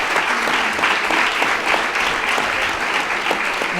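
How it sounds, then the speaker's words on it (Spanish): An audience claps steadily in a lecture hall to welcome a doctor on stage, a loud, dense burst of many hands that holds evenly throughout with no talking over it. "les pido un fuerte aplauso para recibir al doctor"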